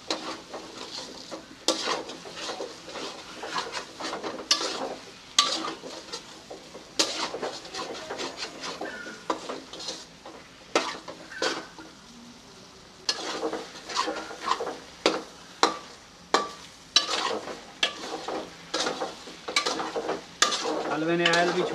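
A spoon stirs semolina and milk halwa with coconut in a kadhai, giving repeated rhythmic scraping strokes against the pan over a soft background sizzle, close and fairly loud, with one short pause midway.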